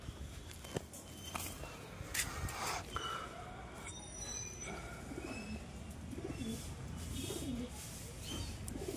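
Pigeons newly bought at a market coo softly and repeatedly at close range, with a few chirps and faint footsteps in the background and no talking.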